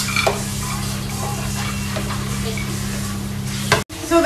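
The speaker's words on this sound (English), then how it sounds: "I'm going to fry in some dry fruits, that's kaju and kismis in pure ghee" Cashews and raisins (kaju and kismis) frying in pure homemade ghee, a loud continuous close sizzle with steady crackle, a low constant hum beneath and an abrupt cut near the end.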